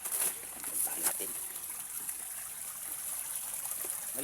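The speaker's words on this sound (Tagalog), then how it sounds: "Bukal na tubig dito sa amin." Water from a natural spring at a well trickles and flows steadily in a faint, hissy stream, with soft splashes and a few light taps near the start.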